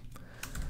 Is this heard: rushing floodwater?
no